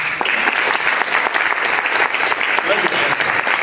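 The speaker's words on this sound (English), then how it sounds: "let's give a round of applause to our panel" Sustained audience applause for a debate panel, dense clapping from a crowd filling the room at steady volume throughout.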